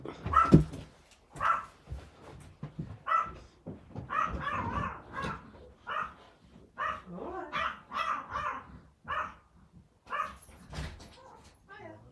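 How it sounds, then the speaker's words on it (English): A dog barks sharply in repeated bursts at a delivery arriving at the front door of a home, loud and close, with someone talking in between the barks. "As you can hear, Freckle feels very strongly about deliveries"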